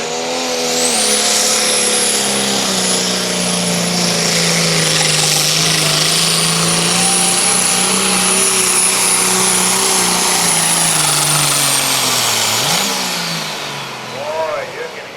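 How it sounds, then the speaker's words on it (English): A tractor pull engine roars loud and close at a truck and tractor pull, holding a steady droning pitch with a thin high whine, then drops off and sputters near the end. "you can hear it just sounds like one cylinder just wasn't quite getting the job done. A little flutter in the engine"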